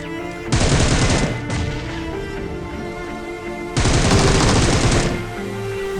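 Two loud, dense bursts of automatic gunfire from PUBG Mobile, the first about a second long and the second close to a second and a half, each a rapid rattling volley over steady game background sound.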